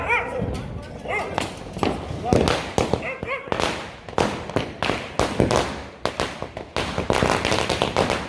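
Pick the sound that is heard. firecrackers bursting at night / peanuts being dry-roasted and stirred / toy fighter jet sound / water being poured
firecrackers bursting at night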